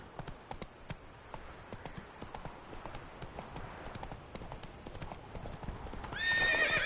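Horse galloping in The Witcher 3 video game, a steady rapid clip-clop of hooves over faint background, with a short snort or whinny swelling near the end.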